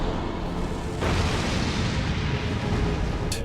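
A pyromancy spell goes off in Dark Souls 2 as a loud, roaring fiery explosion. The blast surges again about a second in and keeps rumbling continuously with a sharp crackle near the end.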